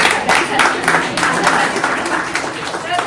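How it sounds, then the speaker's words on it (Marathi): Audience at a Women's Day event held by a working journalists' union bursts into a short, loud round of clapping, dense and continuous from start to finish. "तर एकदा जोरदार टाळ्या"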